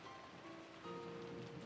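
Wind and rain roll on steadily in the Umineko no Naku Koro ni visual novel. A dense, soft hiss of rainfall plays under a faint sustained tone, quiet and continuous for the whole short stretch.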